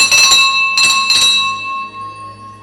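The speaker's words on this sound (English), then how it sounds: "The king himself rang the holiday bell." Holiday bell rung by a king, three bright metallic strikes in quick succession with a long ringing tone sustaining and slowly fading afterward, loud and alone.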